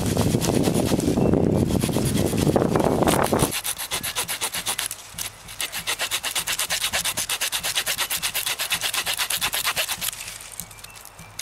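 A Swiss Army knife scrapes bark from a thin wooden branch, about 4–5 cm thick, outdoors, in steady rapid rasping strokes: heavy and dense at first, then a quicker, lighter run of scrapes that trails off at the end.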